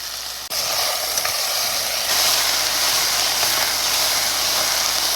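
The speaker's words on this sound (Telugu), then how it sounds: "పచ్చి వాసన పోయే వరకు ఆలుగడ్డ పచ్చి వాసన పోయే వరకు బాగా వేయించుకోవాలండి" Potato, beans, cumin and curry leaves frying in hot oil give off a loud, steady sizzle that starts abruptly and then runs on without a break.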